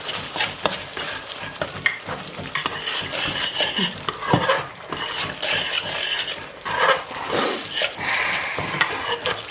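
Spoon scraping and stirring salt through dried prawn pickle in a metal pan, with steady clinks and scrapes over a soft sizzle, close and continuous with no talking.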